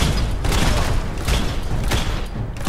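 Explosions and bursts of gunfire in the video game Fallout 4, a dense, loud, continuous barrage of booms and shots with no pauses.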